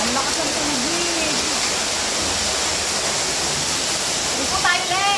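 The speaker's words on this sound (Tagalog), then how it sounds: "ang lakas ng tubig." Strong rushing water roars through an underground river cave in Cavinti, Laguna, a loud, steady broadband torrent filling the whole clip, with faint voices and brief whistle-like tones rising over it near the start and end.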